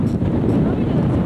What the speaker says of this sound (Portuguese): deste lado da montanha, realmente venta muito